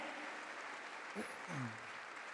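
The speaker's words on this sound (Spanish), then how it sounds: "Dele un fuerte aplauso a Dios" Faint, distant congregation applause during a church service, a soft continuous wash of clapping with a brief voice rising in it.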